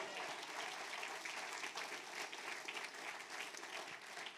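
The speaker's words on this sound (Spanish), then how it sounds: "Alguien debería aplaudir por esto." Church congregation clapping in a steady, dense burst of applause that fills the room, quiet in level but continuous throughout, with faint murmuring voices underneath.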